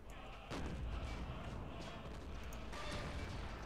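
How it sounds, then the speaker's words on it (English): Mortar fire in the WWII strategy game Men of War: Assault Squad 2, an early-war battle with German soldiers: two sharp booming impacts about two seconds apart, each trailing into a low rumbling din, fairly faint overall. "Keep up the mortar fire."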